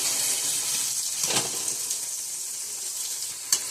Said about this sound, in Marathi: वटाणे थोडेसे चांगले परतून घेऊया त्याच्यामध्ये,